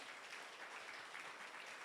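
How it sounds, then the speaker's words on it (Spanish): Steady applause from a church congregation, dense clapping sustained at moderate volume with no voices. "Fuerte ese aplauso al Señor."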